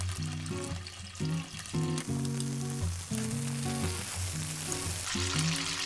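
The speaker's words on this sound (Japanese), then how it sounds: "ベーコンが焼けていい音がしてきました。" Bacon frying in a pan for carbonara gives a steady crackling sizzle throughout, close and fairly quiet, with no talking.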